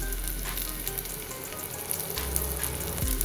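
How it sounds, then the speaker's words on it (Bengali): Whole cumin seeds and ground coriander fry in hot oil with a steady, loud, close sizzle that holds throughout, a slight bubbling stir near the end. "আমি প্রথমে দিয়ে দিলাম গোটা জিরে, এরপর দিয়ে দিলাম একটু ধনে গুঁড়ো"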